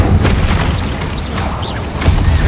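An Incendio fire spell cast in the video game Hogwarts Legacy whooshes and booms amid a busy battle, with sharp bursts, rumbling impacts and small whistling effects layered together at close range.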